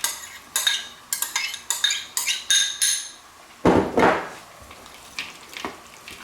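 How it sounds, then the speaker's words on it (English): Spoon scraping and clinking in a bowl while peas are stirred into a tuna noodle casserole mixture with onion, a series of short, fairly close clatters, then a louder scraping burst and a few fainter taps. "now we're just going to stir the peas in"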